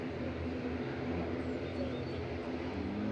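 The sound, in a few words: noisy propeller aircraft nearby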